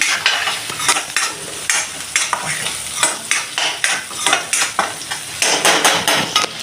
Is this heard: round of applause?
no